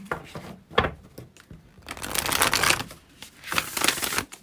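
Close papery riffling and snapping of a deck of tarot cards being shuffled in a few quick bursts, with short pauses between.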